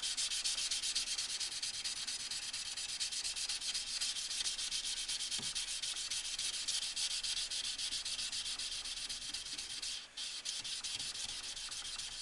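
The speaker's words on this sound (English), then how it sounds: "Now I'll just go ahead and sand it right quick and then pull it off." A knife blade being sanded by hand, a steady, faint, continuous scratchy rubbing that runs without a break for about twelve seconds.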